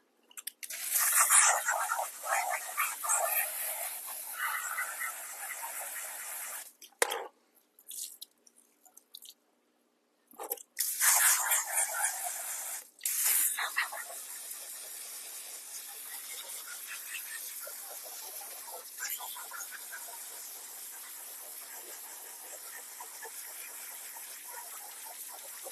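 Water gushes and drips as aquarium filter sponges are rinsed, a steady splashing stream that cuts out briefly twice before resuming, then settles into a softer continuous trickle.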